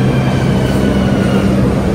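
An underground metro train runs with a loud, steady low rumble and hiss heard from inside the carriage, unbroken throughout.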